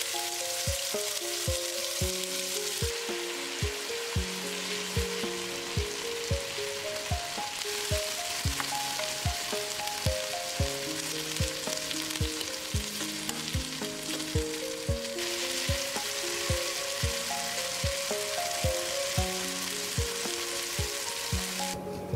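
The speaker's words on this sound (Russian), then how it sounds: "И обжариваем на оливковом масле с двух сторон" Food frying in olive oil in a pan, seared on both sides: a steady dense sizzle and crackle with scattered pops runs throughout, close and fairly loud, with no talking.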